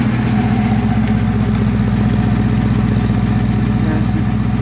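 A Porsche 928 engine idles steadily just after an oil change, a loud, smooth, continuous low rumble close by with a faint higher whine briefly near the end.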